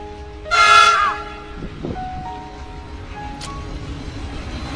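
A train passes by, sounding a loud horn blast early and then rumbling steadily along the rails, with a brief higher whistle-like tone later.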